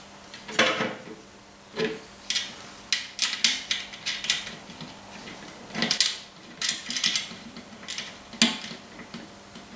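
Light metallic ticks and clinks come in scattered bursts as bolts with washers are hand-tightened on a cement mixer drum, close and fairly quiet, with no talking.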